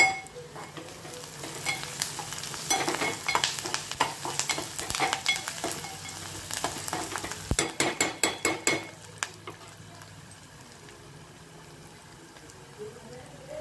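Onions frying in a pan until reddish, with repeated scraping stir strokes and clatter over a continuous sizzle, busiest in the middle before easing to a quieter simmer.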